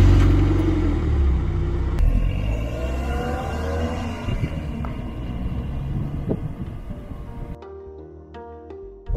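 Mazda MX-5 NC Niseko roadster, about fifteen years old, on the road: a steady low engine and road rumble with wind noise throughout, continuous and fairly loud, dropping off sharply near the end.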